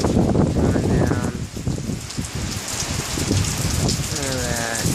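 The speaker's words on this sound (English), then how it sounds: "Look at that wind, that rain coming down." Wind-driven rain pouring down outdoors, a loud, continuous wash of drops and gusts, with voices talking over it.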